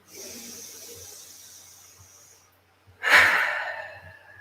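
Breathing during a yoga practice: a long, steady hissing breath fades out, then after a short pause a sharp, forceful breath bursts in and tails off, close to the microphone.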